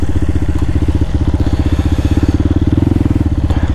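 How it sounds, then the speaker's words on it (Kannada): A BMW S1000RR motorcycle rides off-road with a loud, close, rapidly pulsing engine beat and clattery thumps, the pulsing growing more pronounced toward the end. "ನೋಡಿ, S1000RRಲ್ಲಿ ಆಫ್ ರೋಡಿಂಗ್ ಮಾಡ್ತಾಯಿದ್ದೀವಿ"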